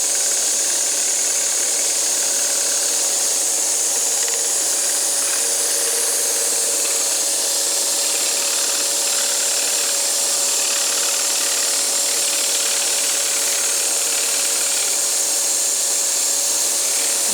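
Power saw cutting wood for a Mission-style clock, a steady high whining buzz running continuously and close, loud and alone with no talk.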